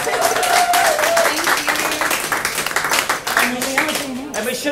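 An audience at a pub show claps and cheers loudly for the bartender in a dense, sustained burst of applause while a voice speaks over it.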